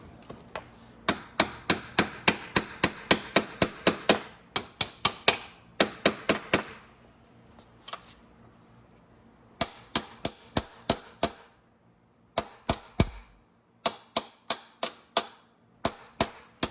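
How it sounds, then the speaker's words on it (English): Sharp metallic hammer taps on the cylinder head parts of a Venom X22r 250cc motorcycle, landing in quick irregular runs of close, loud strikes with brief pauses between the bursts. "tap that over with my hammer because I don't want to keep tapping it with my ratchet"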